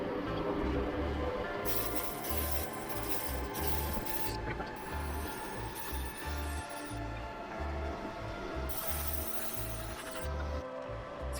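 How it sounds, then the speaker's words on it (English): Spray paint hisses onto a glide bait swimbait fishing lure in steady, continuous bursts, close and loud, with a rhythmic mechanical thumping underneath. "Spraying it at a high angle."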